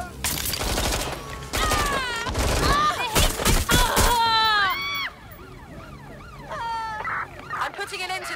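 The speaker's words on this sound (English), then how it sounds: "I'm getting shot at here." Gunfire in the video game Watch Dogs Legion, a dense burst of rapid automatic shots over game sound, followed by wailing siren tones and electronic effects as a voice talks.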